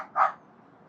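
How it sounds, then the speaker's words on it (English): A dog gives a single sharp bark a short distance away, followed by quiet background. "what are you barking at?"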